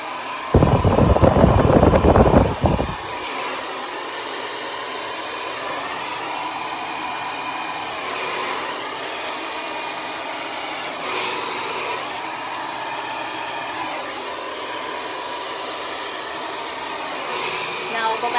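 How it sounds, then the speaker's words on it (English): A blow dryer runs on high, loud and close, for a couple of seconds, then drops to a steadier, softer whir while drying hair with a flat brush. "as I switch the blow dryer to the top and drag it down"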